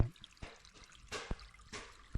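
Faint, quiet water trickling with a few soft drips and splashes, irregular and close, with no voices, in a headwater forest by terraced fish ponds in a mountain valley in Mae Hong Son, Thailand.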